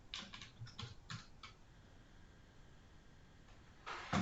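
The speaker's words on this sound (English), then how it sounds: "I'm just going to type in the word point cloud" Typing on a computer keyboard comes in quick clusters of soft, close key taps early on, then a quiet pause, then a final short burst of keystrokes.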